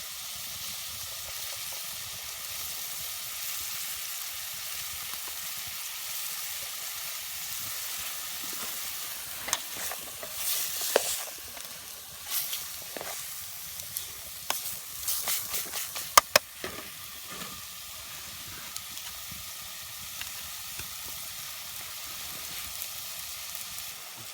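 Noodles cook in a pan on a camp stove at a winter riverbank camp: a steady low sizzle and hiss with a busier run of crackles and pops in the middle.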